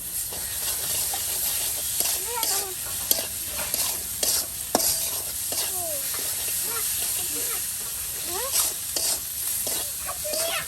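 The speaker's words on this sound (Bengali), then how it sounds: "দেখুন কতক্ষণ সময় নিয়ে এটাকে কষানো হচ্ছে প্রিয় ভিউয়ার্স।" Ground spice paste of cumin, onion, garlic and ginger frying in oil in a village kitchen, a continuous loud sizzle with repeated scraping strokes of the stirring spoon, close by and alone without talk.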